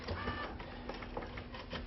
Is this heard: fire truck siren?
no